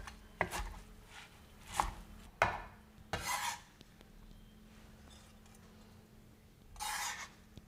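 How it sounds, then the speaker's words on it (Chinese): Soaked glass noodles being chopped with a knife on a board: several sharp, separate chops spaced irregularly, close and crisp, with a scraping stroke near the end. "泡过水的冬粉也还是脆脆的，切的时候都会乱弹。"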